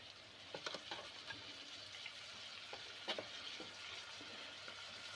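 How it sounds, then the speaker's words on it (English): Canned tomatoes go into bhindi masala, okra sizzling in a pan, giving a quiet, steady frying hiss broken by a few soft splashes and stirring clicks, with no talking. "I'm adding the tin tomatoes, guys."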